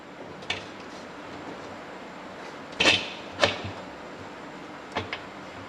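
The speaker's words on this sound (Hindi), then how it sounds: "मिक्स करने के बाद ढक्कन को बंद कर लेना है।" Metal pressure cooker lid set and closed over a salted meat and water mix, giving a few sharp clanks and taps spaced apart in a quiet kitchen, with a louder double knock in the middle.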